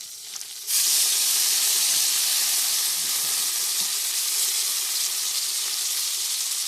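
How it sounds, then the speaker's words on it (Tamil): Tomatoes drop into golden fried onions in a pan, bursting into a loud, steady sizzle and hiss after a brief quieter moment, continuing evenly with faint stirring underneath. "இப்போ நம்ம தக்காளியை சேர்த்துக்கலாம்"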